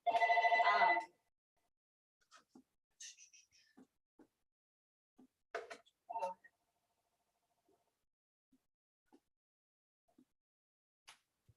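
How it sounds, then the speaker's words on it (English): A telephone rings once in a single loud burst, then faint scattered clicks and soft sounds follow in an otherwise quiet room. "And there's the phone."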